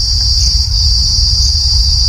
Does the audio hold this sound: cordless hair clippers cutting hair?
no